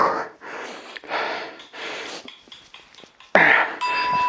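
Heavy, labored breathing after a full-body workout: a series of loud, rhythmic gasping exhales and inhales up close, ending with a sharp snort-like breath.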